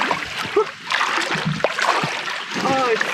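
Water splashing and sloshing as a vehicle crosses a shallow river at a secret spring in the Kimberley, loud, close and continuous, with short voice sounds mixed in.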